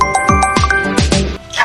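Incoming-call ringtone on a mobile phone in a rural Haryanvi home, a repeating electronic melody with descending tones ringing loud and close for a short burst.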